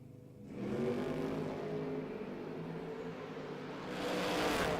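Drag race cars, a Chevette against a Camaro at a no-box 660 shootout, roar past in one sustained loud engine drone that swells again near the end.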